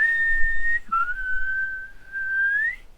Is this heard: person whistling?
yes